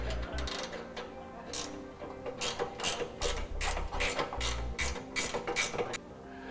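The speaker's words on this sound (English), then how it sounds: "let's go ahead and tighten them down." Rapid bursts of mechanical ratcheting as bumper bolts are tightened on a 2012 Jeep Wrangler while a Rampage rear recovery bumper is installed, several loud close runs with short pauses between them.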